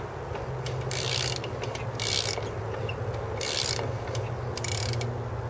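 A 1975 Suzuki RL 250 motorcycle engine is cranked over repeatedly, giving a mechanical whirring and clattering in four or five bursts about a second apart over a low steady hum, close by with no talk.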